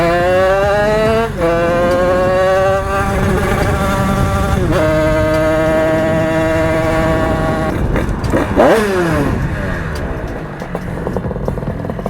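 A Bidalot 88 moped with a KRM 80/90 exhaust revs hard and close, its sharp buzzing note sweeping up and down in repeated climbs, dropping sharply around the middle before a final rising blip and fade.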